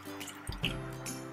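Fresh lemon juice is squeezed into a chicken biryani marinade in a Hyderabadi kitchen, giving a brief soft liquid drip and splash. It is quiet and close, with no talking.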